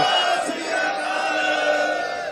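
A crowd at a political rally shouting slogans, a sustained roar of many voices held steady throughout, loud and slightly distant.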